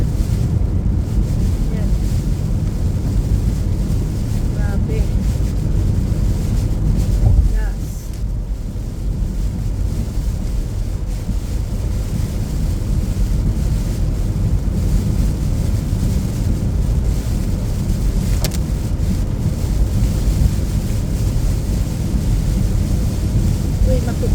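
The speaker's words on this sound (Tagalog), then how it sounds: "Hindi pa humihintong tumulan Tuloy-tuloy pa rin talaga." Heavy rain pours on a bridge in a steady, dense roar close to the microphone, with gusty wind-like rumble and a brief dip partway through.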